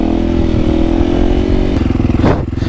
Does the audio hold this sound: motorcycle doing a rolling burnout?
yes